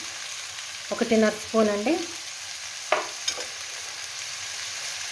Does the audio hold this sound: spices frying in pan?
yes